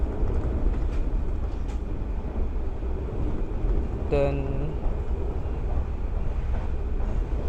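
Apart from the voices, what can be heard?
riding inside the Cakrabuana executive class train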